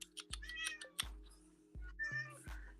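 A cat meows repeatedly in short, insistent cries, close by, with a few soft clicks in between and no talking.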